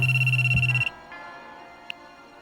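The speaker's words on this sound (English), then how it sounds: "Tsubaki's cell phone rang." A cell phone rings with a steady electronic tone held for just under a second, then cuts off, leaving faint background hum and one brief chirp.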